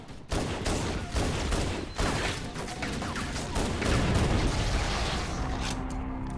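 Dense gunfire and blasts fill a battle in the Halo video game, with a thick wall of continuous shots, booms and a grenade explosion, loud and close throughout.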